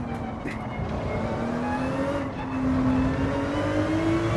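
A Gr.3 race car in Gran Turismo 7 at Suzuka, its engine note climbing steadily through the revs and sustained loud throughout, heard from a chase perspective with no talking.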